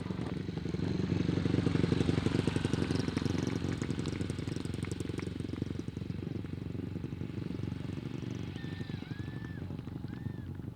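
Grasstrack racing motorcycle engines drone loudly and continuously outdoors, a rough throbbing roar that eases slightly midway, with faint crowd and distant whistles around it.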